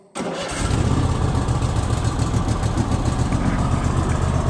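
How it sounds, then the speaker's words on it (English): An engine fires up with choke and a little throttle after sitting unused all winter, catching abruptly and settling into a loud, steady, close idle with a continuous low rumble. "Starts up like it was just shut off."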